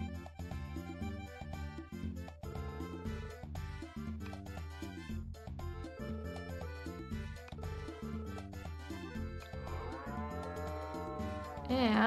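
A cow moos in the farming video game Harvest Moon: Sunshine Islands, a drawn-out call rising near the end over loud, busy background game music.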